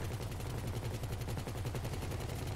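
Sustained rapid gunfire in a GTA 5 heist, shot downward from a helicopter, with dense rattling bursts running continuously over a low rotor rumble, loud and close throughout.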